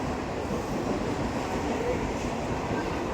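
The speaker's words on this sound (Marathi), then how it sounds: "ट्रेन आलं तर थोडी हवा थंड लागते." A train rumbles steadily alongside a station platform, its dense, continuous roar of wheels and carriages filling the scene at moderate volume without letting up.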